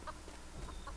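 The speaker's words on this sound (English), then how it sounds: "I hear a chicken." Chicken clucking inside a Roblox video game, short clucks repeating over a steady backdrop of game noise, quiet and fairly close, with no talking.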